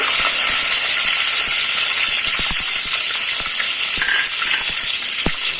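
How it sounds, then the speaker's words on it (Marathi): Cumin seeds, curry leaves and garlic hit hot oil in a pan for Maharashtrian katachi aamti. A loud, steady, close sizzle runs throughout, broken by sharp crackles and pops. "आता मी जिरे मोरी टाकत आहे त्यानंतर कढीपत्ता टाकून घेऊया लसूण"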